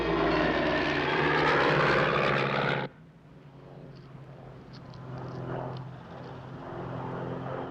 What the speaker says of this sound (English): It's definitely a light aircraft.